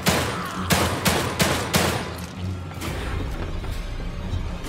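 Gunfire in the survival horror game The Evil Within 2: a quick burst of four or five sharp, loud shots in uneven rhythm, then a lower rumbling tail of explosion-like noise and clatter.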